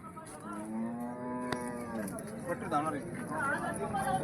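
Nagori calves at a bullock market at Rajur Ganpati, mooing near and loud with long drawn-out harmonic calls, while people chatter in the background throughout.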